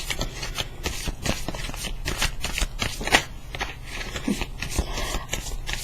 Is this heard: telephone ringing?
no